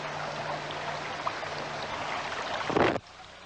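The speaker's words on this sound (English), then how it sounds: "Just the sound of water is magic." Water flows and trickles in a stream, a continuous close rushing that builds to a brief louder surge near the end and then drops away.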